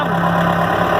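A 1979 Case 580C backhoe tractor's engine runs steadily and close by while its hydraulic bucket is raised, a continuous droning rumble with no talk over it.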